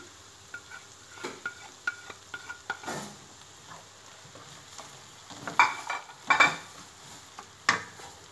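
Vegetables being stirred and fried in a pan for a pasta sauce, giving soft scraping and clinking utensil strokes over a light sizzle, with louder stirring bursts near the end.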